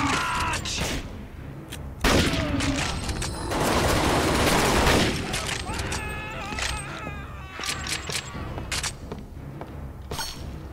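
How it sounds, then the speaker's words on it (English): Enemy gunfire in the video game NecroVisioN crackles in dense bursts and volleys with mechanical clatter, loud at first and then more scattered, while someone talks over it. "They're shooting at me"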